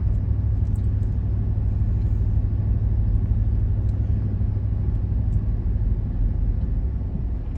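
A Ford F250 dump truck climbs a hill in third gear, its engine a steady, loud low rumble that holds constant throughout with no talk.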